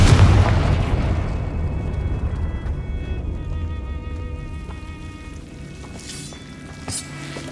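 The Confringo explosive spell in Hogwarts Legacy bursts with a deep, loud boom at the start, then rumbles and fades into a long, ringing tail with faint crackles.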